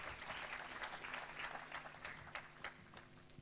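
A church congregation applauding together, a sustained burst of clapping from many hands in a hall, steady and fairly loud throughout.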